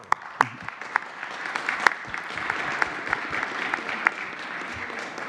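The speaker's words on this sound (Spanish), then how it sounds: "Un aplauso." Audience applause at a Mexican presidential press conference, a steady patter of clapping from a modest crowd with a few sharp close claps standing out, lasting several seconds.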